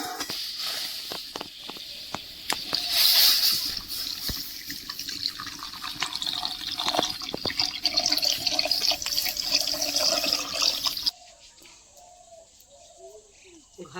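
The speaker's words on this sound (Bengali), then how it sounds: "এইবার কিন্তু আমি দুধটা ঢেলে" Cow's milk pours into a wok with a steady, close splashing rush, some brief clatter and faint background voices, then a sudden stop leaving quieter kitchen sounds.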